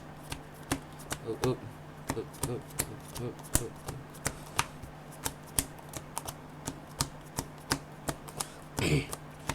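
Pokémon trading cards being shuffled and tapped, with sharp irregular clicks and riffles spaced across the clip, ending in a brief louder riffle; quiet background hum.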